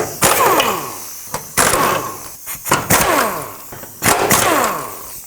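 Four 18mm bolts come off the sway bar of a 2007–2009 Saturn Aura, most likely with an impact wrench. Several sharp, loud bursts of ratcheting whir sound close by, separated by short pauses.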